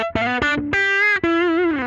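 Electric guitar played through an amp with a vintage overdrive pedal, a short distorted riff of a few plucked notes followed by a sustained, slightly wavering note, heard alone.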